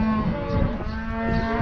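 A cow lets out a single sustained low moo, close and loud, while cattle are moved to pasture past a working pen.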